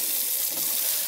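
Water runs from a gold tap into a sink, a close, steady splashing rush that lasts the whole moment with no voices.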